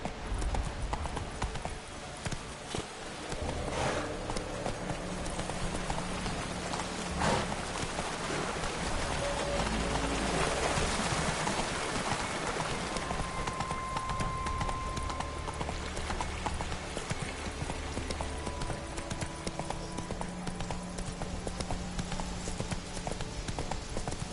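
Roach the horse's hooves clip-clopping in The Witcher 3, a steady continuous rhythm of hoofbeats beneath wind and rustling ambience, with brief shouts from a rider now and then.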